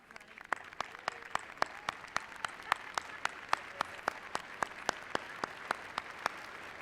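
Applause rolls through a spring 2016 university commencement ceremony as the audience honours graduates' families, a dense, steady clapping texture with sharper individual claps standing out at a regular pulse, heard alone at moderate distance.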